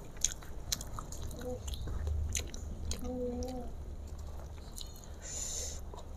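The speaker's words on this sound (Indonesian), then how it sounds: "Dikunyah." Close, quiet chewing of yellow coconut rice with spicy balado egg, bakwan fritters and risoles, with soft crunchy bites and squishy mastication sounds in a few uneven bursts, no talking.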